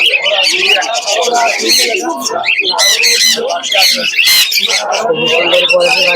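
Loud, close squawks and chirps from many caged birds, including pigeons, crowd the Krishnanagar pigeon market in a constant overlapping din.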